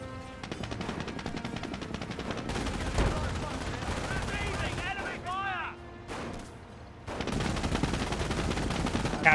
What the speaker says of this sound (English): Captain gets annihilated by the machine gun bunker